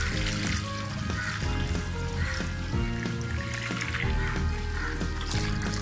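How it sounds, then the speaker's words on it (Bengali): One litre of milk streams into a pot in a continuous close gurgling pour, with a liquid trickle that shifts slightly in pitch as the vessel fills. "পাত্রে আমি 1 লিটার পরিমাণ দুধ নিয়ে নিচ্ছি।"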